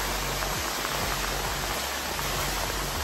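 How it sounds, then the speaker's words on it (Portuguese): Rain falls in a steady, dense hiss among garden plants, constant and close with no voices over it. "Tá chovendo."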